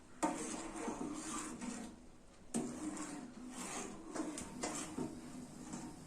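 Scraping, rubbing strokes of a utensil stirring carrot kheer in a pot, repeated in uneven bursts with soft clatter, close by and with no talking.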